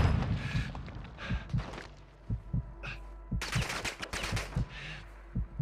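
Gunfire in a Call of Duty battle royale match on the Resurgence map: scattered sharp shots, then a dense rapid burst of automatic fire midway, over clanking movement and game noise.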